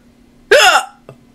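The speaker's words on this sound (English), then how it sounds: "I have the worst hiccups" A single loud, close hiccup from a person who has just eaten a raw slice of jalapeno pepper, a sharp voiced gulp followed by a fainter second catch of breath indoors.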